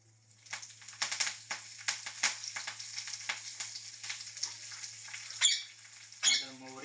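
Curry leaves are dropped into hot oil for a tempering and crackle in a burst of sharp, uneven sizzles and pops, fairly close and moderately loud, with a brief voice near the end.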